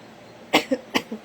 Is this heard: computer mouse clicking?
no